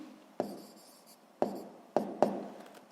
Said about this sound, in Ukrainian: Отже, записуємо відповідь.